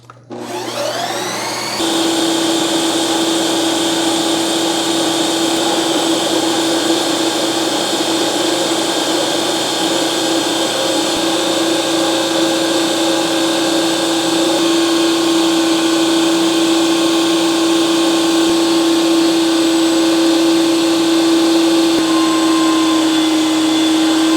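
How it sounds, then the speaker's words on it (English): A Ninja NC301 CREAMi ice cream maker runs its sorbet cycle, starting with a brief spin-up and then holding a loud, steady mechanical whir with a constant pitched hum. "Put it in the machine. And you're going to hit the sorbet button."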